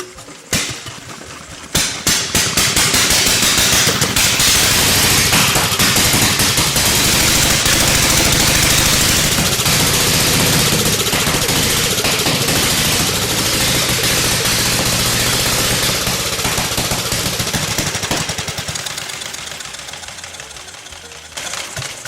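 An old motorcycle engine fires up after a brief clatter, then runs loud and steady with a rapid knocking beat for most of the clip before easing off.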